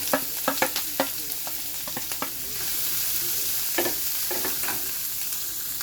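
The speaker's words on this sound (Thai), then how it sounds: "ผัดผักกาดของเราใช้ได้แล้วนะคะ" Pickled mustard greens and garlic stir-fried in a pan: a run of quick spatula scrapes and taps up front, then a steady, close sizzle that carries on alone to the end.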